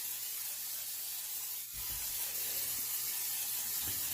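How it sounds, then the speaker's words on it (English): Cooking oil spray hisses continuously and close onto a pan for several seconds with only slight changes in strength, and a faint low hum sits underneath. "I'm going to spray it very liberally."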